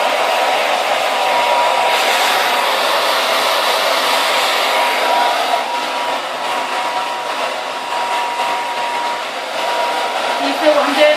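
A handheld hair dryer blows steadily through freshly washed hair during a salon-style blow-dry, its whooshing roar loud and close, shifting slightly in tone partway through as the airflow moves.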